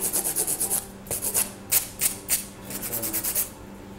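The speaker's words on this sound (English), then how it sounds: "dũa vậy ha anh dũa sơ sơ vậy thôi cho nó nó đều hai cái bên hông này" Acrylic nails being filed with a hand nail file, a close series of quick rasping strokes in short bursts with brief pauses, alone with no talking.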